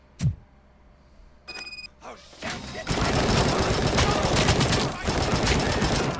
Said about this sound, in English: This is like the only shooting in the game.